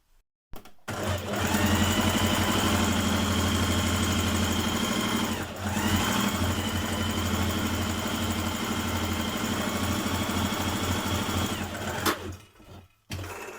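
A sewing machine stitches along the top of a dress's back pieces, a loud, steady mechanical whir that runs nearly unbroken after a brief start, dipping once midway and stopping near the end.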